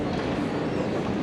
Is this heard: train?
yes